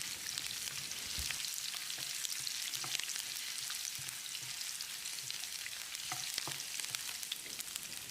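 Ginger and garlic sizzle and crackle steadily in oil in a pan, with occasional scraping and clinking of a stirring spoon.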